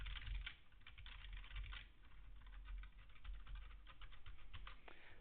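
Rapid typing on a Svalboard split keyboard with 50 light, tactile magnetic keys, giving a steady stream of soft, close clicks and taps with no talking.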